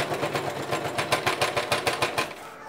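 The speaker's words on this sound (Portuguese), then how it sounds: "E vamos costurar ele aqui." Sewing machine stitching a bag made with wire, a rapid run of rhythmic mechanical pulses that stops abruptly at the end.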